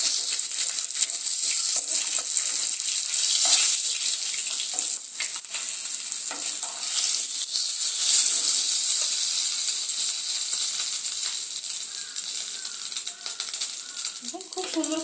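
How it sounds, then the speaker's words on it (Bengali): Pieces of katla fish fry in hot oil in a pan with a continuous loud sizzle and crackle, along with occasional rattling scrapes of the pan and utensil. "পিস উল্টে ঠিক এইভাবে লাল করে ভেজে নেব।"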